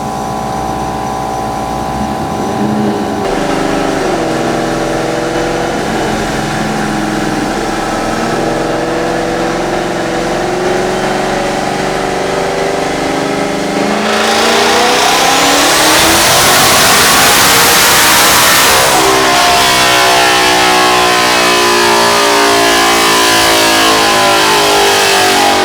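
A twin-turbo 2018-or-later Mustang GT with a Hellion kit on a dyno, idling loudly and then revving hard in a long, rising full-throttle pull before the engine note drops away, close and alone.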